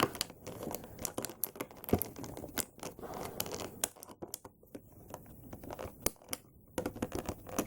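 Plastic ties being snipped from the packaging of a McFarlane Christopher Reeve Superman figure: irregular sharp clicks and crinkling plastic rustles, close and fairly busy, with no speech.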